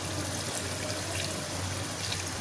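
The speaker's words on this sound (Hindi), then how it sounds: "सिर्फ आधा गिलास हमने पानी डालना है, ज़्यादा नहीं।" Half a glass of water poured onto potatoes in a cooking pan, a steady hissing, splashing flow that stays constant and close throughout, with no talking.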